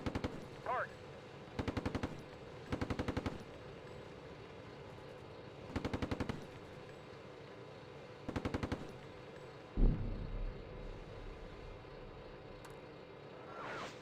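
Machine-gun fire in the Steel Beasts Pro PE tank simulator, heard as short repeated bursts at regular intervals over a low steady rumble, followed by a single heavier thump near the end, with no talk.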